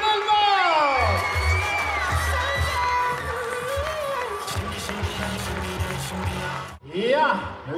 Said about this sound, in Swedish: Ge dem applåder, ledare och spelare Flickor 11!